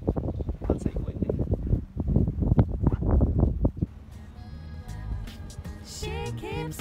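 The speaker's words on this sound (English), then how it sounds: "And now it's windy, which is much better." Gusty wind buffets the microphone in heavy, rumbling bursts on a sailboat at sea along the English south coast between Ramsgate and Brighton, easing into a calmer rush with chiming and creaking sounds from the boat.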